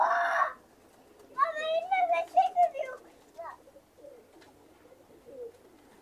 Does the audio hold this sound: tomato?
no